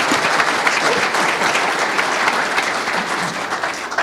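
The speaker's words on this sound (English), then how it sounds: "So can you give a round of applause to our panelists" Audience at a packaging-industry conference panel discussion claps for the panelists, dense steady applause filling the room at close range without any speech over it.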